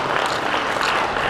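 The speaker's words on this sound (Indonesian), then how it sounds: "tepuk tangan buat mereka berdua" Applause for a wedding couple, a dense steady patter of many hands clapping together, loud and close, filling the whole moment.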